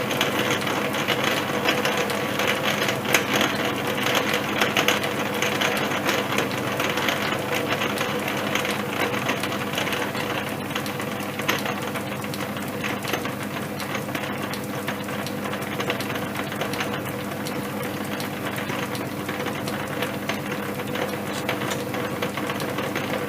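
A Bridgeport milling machine runs a tap in a steady, continuous mechanical whir with ratcheting, gear-like chatter, evenly loud and close throughout, with no talking.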